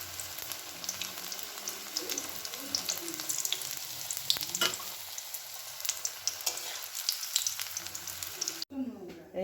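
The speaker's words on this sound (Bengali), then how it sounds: "আমার ধনে পাতার পকোড়া ভাজা হয়ে গেছে, একবারে মুচমুচে হয়েছে" Coriander leaf pakoras frying in hot oil give a steady close sizzle with scattered crackles and bubbling for most of the stretch. The sound cuts off abruptly near the end.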